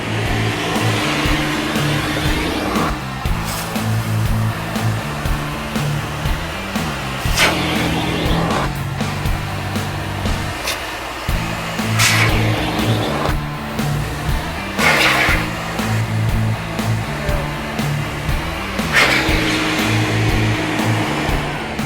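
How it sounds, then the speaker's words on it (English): A shop vacuum pulling dry dirt out of car upholstery and carpet, a loud continuous motor whine with recurring surges and hissing suction bursts as the nozzle moves, no one talking. "Shop vacs work great for dry extraction."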